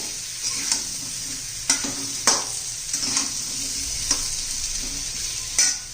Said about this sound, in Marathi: व्यवस्थित सगळं मिक्स करूया